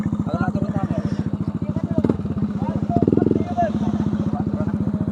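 Underbone motorcycle engine idling and puttering with a rapid, even firing pulse, fairly close and steady throughout, with a brief rev swell midway at a busy Sunday-morning ride gathering.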